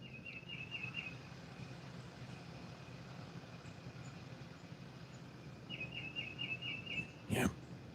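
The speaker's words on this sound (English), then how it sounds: "You hear the birds?" Birds chirping outdoors, faint repeated high whistled calls in two short bursts over a low background rumble of distant traffic, with a brief louder knock near the end.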